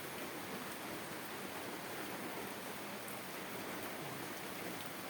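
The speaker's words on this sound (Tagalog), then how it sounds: "umuulan yon na hapon dito sa akin may bamboo house" Heavy afternoon rain falling on and around a bamboo house, a steady, even hiss of downpour that continues unbroken and fairly faint, with no voices.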